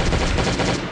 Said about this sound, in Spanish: Esa explosión con una granada.